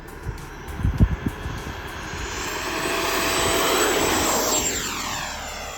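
Blue Angels jet taking off, a few thumps and rumbles first, then a loud, steady roaring whoosh that builds and passes close by, with a rising whine sweeping across it near the end.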